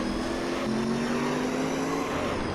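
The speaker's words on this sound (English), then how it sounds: "I'm of course shifting up into 5th gear so I don't lose control of this thing" Race car engine in Gran Turismo 3 upshifting into fifth gear, a steady loud droning tone whose pitch drops and resettles at the gear change, continuous with no talk.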